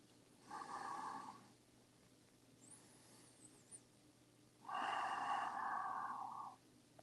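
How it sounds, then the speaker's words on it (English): Two long, deep breaths during a seated twisting yoga pose, each a broad airy whoosh lasting about a second or more, the second louder and longer, with a quiet pause between them. "Breathe deep."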